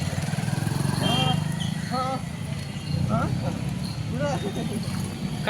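Vehicles pass along a road with a steady low engine rumble, like a motorcycle, that rises and falls slightly while people talk over it.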